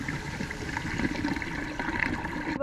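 A truck camper's black water tank drains through a hose. A continuous close gush of rushing, gurgling water, and no talk.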